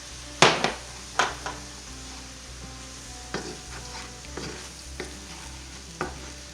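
Fried rice with oyster sauce being stirred in a hot pan, giving a soft steady sizzle punctuated by several sharp, close scrapes and knocks of the utensil at irregular intervals, with no voices.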